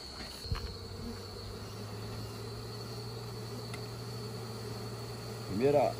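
Honeybees hum steadily around an opened hive box during a honey harvest in Brazil, a close, constant buzzing drone with a brief louder buzz as one bee passes near.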